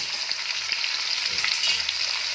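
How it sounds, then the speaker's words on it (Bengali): Boiled potatoes frying and being stirred in a pan for a vegetarian potato and green pea dish, a steady close sizzle with soft scraping stirs and light spatter, no voices. "আলুটাকে এভাবে একটু ভেজে নিতে হবে।"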